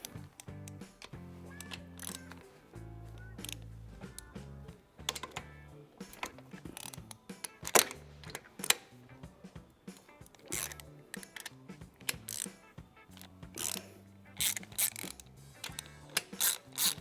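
Rocker box bolts on a Harley Evo Sportster are broken loose one at a time with a ratchet, giving repeated close clicking bursts with short pauses between them and no talking.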